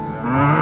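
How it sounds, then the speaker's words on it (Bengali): A cow lets out a single loud, sustained moo, close and clear, with no other sound over it. "গরু বাছুর দাঁড়িয়ে আছে"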